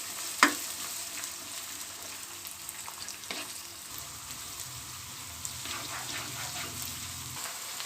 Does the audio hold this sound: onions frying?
yes